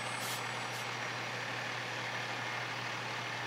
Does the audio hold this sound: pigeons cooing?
no